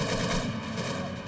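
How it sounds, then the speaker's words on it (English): Rapid gunfire erupts as a SWAT team and gunmen exchange shots in a shootout, forming a dense, sustained crackling barrage of overlapping shots close by. "The SWAT members open fire."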